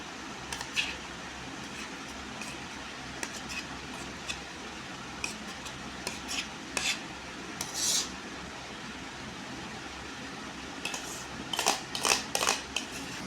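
A spoon or spatula gently folds chocolate mousse mixture in a bowl for a triple chocolate mousse cake, giving soft scrapes and occasional light clinks against the bowl, loudest in short bursts near the end, over a steady background hum.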